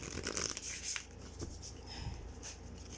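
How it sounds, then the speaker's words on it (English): A deck of matte-finish Spellcasting Oracle Cards being shuffled close up, with quick papery riffling bursts at the start that settle into softer intermittent rubbing and flicking sounds. "let's try to shuffle the cards"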